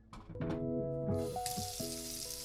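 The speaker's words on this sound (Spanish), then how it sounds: "Seguimos enjuagando y frotando hasta que la superficie se vea más limpia y se vea más lisa y el agua no salga tan sucia" Tap water runs over a rusty, unused cast iron skillet as it is scrubbed and rinsed, a close, hissing splash with tonal ringing that grows brighter partway through.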